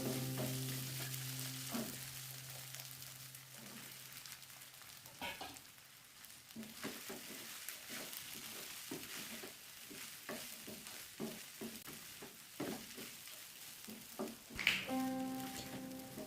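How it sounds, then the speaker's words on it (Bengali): Soaked sabudana is stirred into a frying pan for upma, producing a faint continuous sizzle with soft, repeated scraping and tapping of the spoon against the pan. "এখানে ভিজিয়ে রাখা সাবুটা মিশিয়ে নেব এখানে সাবুটা অল্প অল্প করে মিশিয়ে নিতে হবে"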